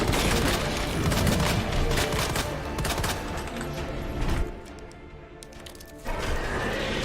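Matilda handgun fire in Resident Evil 2 on hardcore difficulty, a dense flurry of sharp shots and impacts over game noise, dropping to a quieter lull before the action picks up again.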